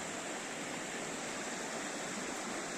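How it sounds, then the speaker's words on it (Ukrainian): A mountain river in the Carpathians flows with a constant, even rush of water, a steady broadband wash with no voices or other sounds over it. "Річка тече."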